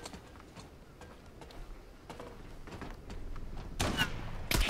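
Gunfire in the online shooter Zula Europe crackles faintly as scattered ticks at first, then swells into louder, closer bursts of shots over the final second, with game ambience underneath.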